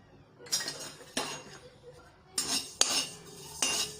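Coriander seeds being dry-roasted are stirred around a pan, giving several bursts of scraping and rattling with metallic clinks of a spoon, separated by short quiet gaps.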